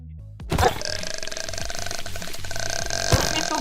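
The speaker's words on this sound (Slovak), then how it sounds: "Už mi tu grgáš." A burp in a horror-themed Minecraft game, a loud, drawn-out belch rising abruptly out of dense, continuous game music and noise that persists throughout.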